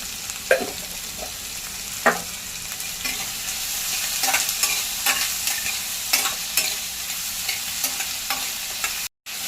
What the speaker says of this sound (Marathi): गॅसची फ्लेम वाढवली मध्यम केली परतायच्या म्हणजे कांदा पटकन मऊ होईल